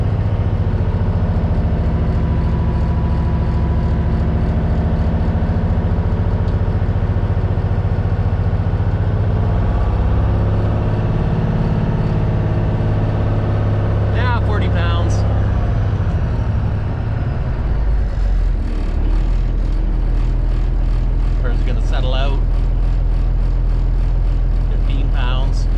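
An engine that has been through a lot of trouble idles with a steady low rumble and then revs up near the middle, its pitch rising before settling back. Clicks and tapping sounds come through alongside it, with speech present in places.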